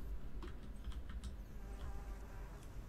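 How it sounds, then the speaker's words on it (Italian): Flies buzz faintly around a Sims 4 household, a soft, thin insect hum with scattered light ticks over a low background rumble, quiet and continuous. "Le mosche io vorrei capire dov'è che si trovano perché mi stanno a dar fastidio."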